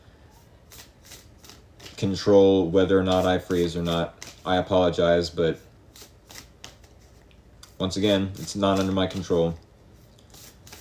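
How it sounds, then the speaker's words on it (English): Tarot or oracle cards shuffled repeatedly by hand, close crisp riffles and snaps running beneath a person talking throughout. "We need 3 more shuffles for this one last card"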